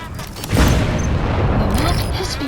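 A vehicle explodes in Metal Gear Solid V: The Phantom Pain, a sudden loud boom whose rumble lingers for about two seconds alongside game sound effects.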